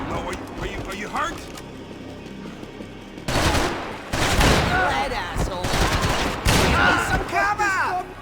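Video-game gunfire in Max Payne 3, loud bursts of rapid shots in two or three clusters after a quieter stretch, with voices speaking over parts of the action.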